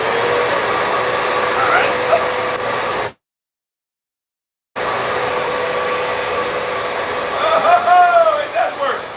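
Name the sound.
Royal carpet shampooer vacuum running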